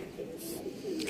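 Pigeons on a rooftop, in a setting where birds are being stamped before a pigeon-flying contest, giving soft, low cooing that is heard close by along with chatter and voices.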